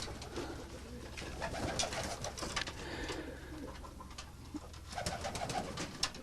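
Soft, low coos of tumbler pigeons repeat at a distance over a faint, busy background hum.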